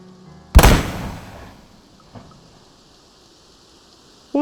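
A single sharp gunshot effect in a zombie apocalypse audio drama, a loud sudden crack that rings out and decays over about a second into a quiet rain-like hiss, with a faint knock afterward.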